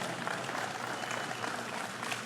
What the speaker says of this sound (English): That's a wimpy clap, but that's a big deal